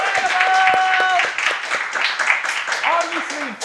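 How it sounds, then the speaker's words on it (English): Applause from a comedy show audience at Side Door Theatre, scattered clapping and crowd noise mixed with voices talking and cheering over it. "I want to give a huge round of applause to Side Door Theatre for hosting us tonight."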